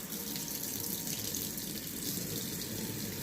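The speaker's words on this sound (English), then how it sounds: "My faucet's a little far away." A faucet runs steadily into a sink during a surgical hand scrub, a constant even hiss of flowing water heard close and alone for the whole stretch.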